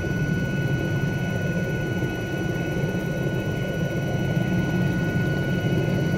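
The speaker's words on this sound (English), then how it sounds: "There's the air ambulance." Constant whirring drone of an air ambulance helicopter in Microsoft Flight Simulator 2020, loud and steady throughout, with a thin high whine riding above the rotor noise.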